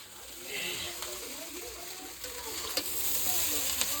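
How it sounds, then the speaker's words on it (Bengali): Chowmein is stir-fried restaurant style in a pan, a continuous sizzle and hiss with occasional clinks and scrapes of stirring, fairly soft and heard from close by. "তো ওখানে একটা রেস্টুরেন্ট স্টাইল এ হচ্ছে, কি বলে, চাউমিন বানানো হচ্ছে।"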